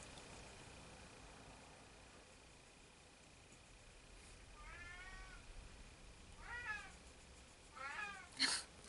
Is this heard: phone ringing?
no